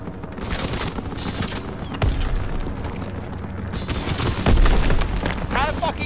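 Heavy gunfire and booming impacts from an aircraft gunner strafing in Call of Duty WWII, a dense, loud barrage with deep thuds and rolling bursts, while voices talk over the battle noise.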